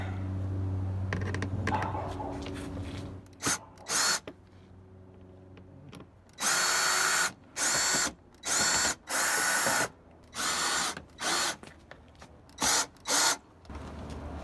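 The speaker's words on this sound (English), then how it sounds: "So now I'm gonna tighten it up with the screw." A power screwdriver drives screws into a rear bumper diffuser on a VW GTI MK7, in a series of loud, close whirring bursts separated by short pauses.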